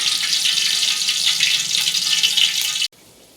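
Curry leaves frying in hot oil in a pan while making a Telugu-style poha snack mixture, giving a steady, loud broadband sizzle that carries on without pause and then cuts off abruptly near the end.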